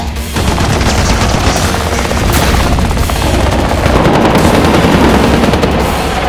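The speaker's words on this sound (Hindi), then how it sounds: "अरे अपने को उनकी मिसाइल लग गई।" In a video game, an enemy missile strikes the player amid dense, continuous gunfire and booming blasts, loud and chaotic throughout with no pause.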